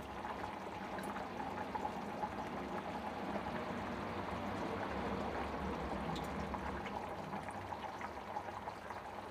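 Soaked tamarind juice pouring into a simmering mutton curry, giving a steady, even liquid rush with a soft bubbling underneath that runs the whole time without any voices.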